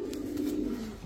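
A female racing pigeon from a 2023 club race, in breeding condition, gives a short, low, throaty coo close by, lasting about a second.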